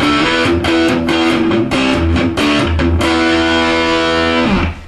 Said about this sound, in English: we're going to put the distortion on our amp